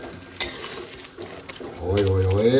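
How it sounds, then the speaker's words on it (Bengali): Masala spices frying in oil in a pan for a mutton curry, stirred with a utensil: a bright scrape near the start, then a steady sizzle as a voice begins speaking over it. "দেখো মশলা কষছে।"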